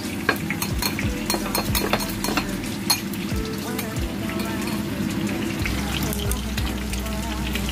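A lemon and honey sauce is stirred together in a kitchen, with soft scraping and clinking of a utensil against the bowl over a low background sizzle, the strokes irregular and close.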